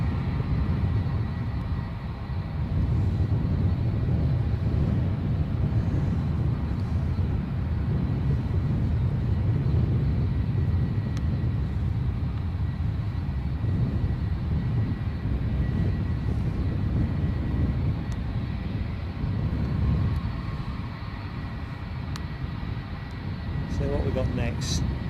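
An ATR turboprop turning at Edinburgh airport gives off a steady low engine rumble at moderate distance that holds even throughout, while people talk over it.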